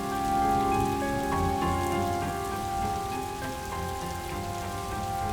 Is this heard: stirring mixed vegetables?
no